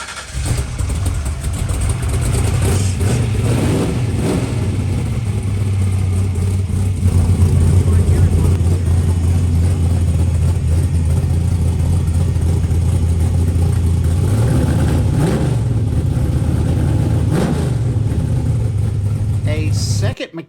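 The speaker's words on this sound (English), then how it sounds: "I caught him doing an oil change after they had replaced the engine in this Mustang. Then he let me listen to it real quick." Ford Mustang with a replaced engine at an auto repair shop in Paris, Texas, a loud steady engine running close by with a few rises in revs, while people talk over it.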